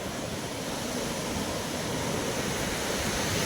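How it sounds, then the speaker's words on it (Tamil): Sea waves roll onto Varkala beach in a steady, loud wash of surf that swells slightly toward the end, with no voices over it. "இப்போ நம்ம எங்கே வந்துருக்கோம்னா வர்க்கலா பீச்."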